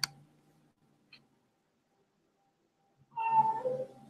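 A house cat lets out a drawn-out meow near the end, after a sharp click and a faint tick in an otherwise quiet room.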